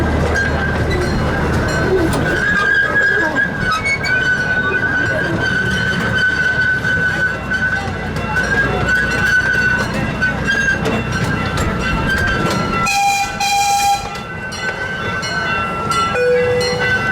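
The C.P. Huntington miniature train at Kemah Boardwalk rumbles and clatters along steadily with a sustained high tone, then a short horn-like tone sounds near the end, with faint speech mixed in.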